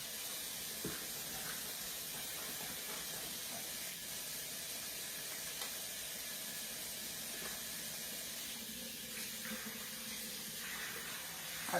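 Hands are washed under a running kitchen sink tap: a steady, close hiss of flowing water splashing continuously for about twelve seconds, with faint handling bumps.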